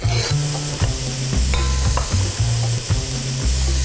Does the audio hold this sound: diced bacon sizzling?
yes